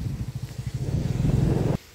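A motorcycle ridden along, its engine thumping in a loud close rapid pulse under wind buffeting, then cutting off abruptly near the end.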